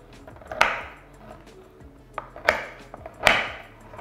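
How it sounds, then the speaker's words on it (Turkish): A bar of chocolate is broken into pieces by hand in a kitchen for a chocolate sauce, giving three sharp snaps with quieter handling and clatter in between. "Çikolatayı parçalayarak başlıyoruz."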